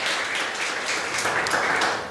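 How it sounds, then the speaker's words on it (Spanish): Congregation in a church service clapping together in steady, dense applause that fills the room, fairly loud and sustained throughout with no talk over it. "Dale un fuerte aplauso"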